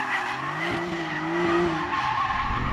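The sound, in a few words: Porsche 911 Turbo sliding, tires skidding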